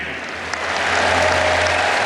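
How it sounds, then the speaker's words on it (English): A stadium crowd applauds the Australian Open men's champion after the final, steady clapping that swells slightly and carries on as a dense wash of hands. "one final round of applause for our champion"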